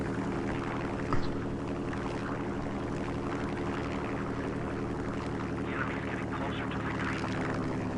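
A propeller aircraft engine in a combat video game drones steadily and loudly throughout, with a continuous low hum and no break in the sound.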